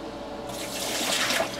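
Lime water poured out of a container of stored eggs, a brief splashing, gurgling flow that grows slightly louder over a second or so.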